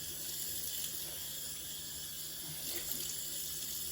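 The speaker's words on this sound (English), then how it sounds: "So now that it's come off, I'm going to rinse it all off." Tap water runs steadily into a sink while a seaweed face mask is rinsed off, a continuous close splashing hiss with slight irregular spatters, no voices.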